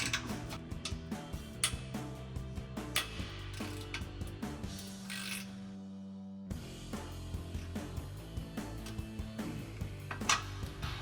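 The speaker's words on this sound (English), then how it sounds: "Don't need to take the nut all the way off, just enough to loosen the clamp there." Ratchet wrench loosening a nut on the exhaust clamp of a Dodge Challenger muffler, quick steady clicking throughout, close and fairly quiet, with a brief pause midway.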